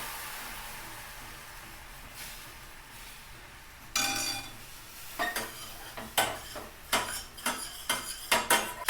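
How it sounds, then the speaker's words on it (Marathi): Milk being stirred in a metal pot while making basundi, a spoon scraping and clinking against the sides in a run of sharp, quickening strokes after a quieter start, close and fairly loud with no talking. "हे चांगलं हलवून घ्यायचं मिक्स करून घ्यायचं आहे"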